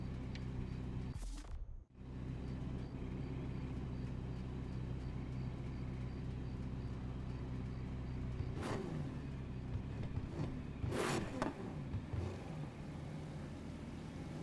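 Car engine idling steadily in Need for Speed Heat, a low continuous rumble throughout, with a brief dropout early on and a couple of short whooshing swells later.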